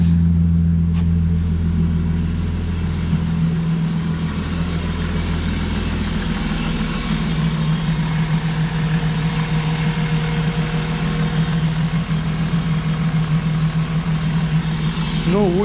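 A BMW E36 engine idles steadily after a cold start, a close, even low rumble throughout, with a person speaking over it.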